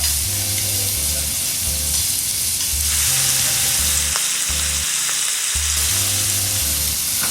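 Ribeye steaks sizzle hard in a hot pan as they are flipped, giving a loud, continuous crackle with occasional shifts and scrapes as the meat is moved.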